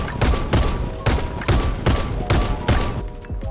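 Rapid bursts of gunfire from the Cobalt Kinetics 27 rifle in the shooter game Warface ring out as six loud, evenly spaced shots, each with a short booming tail.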